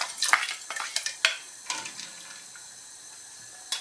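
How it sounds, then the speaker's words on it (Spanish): Dried black beans tipped into a pot of water with a bay leaf for Cuban-style black bean stew: a run of sharp clattering knocks and splashy rattles that thin out into quieter settling sounds, close by and alone. "Y ahora sí, vamos a introducir nuestros frijoles negros."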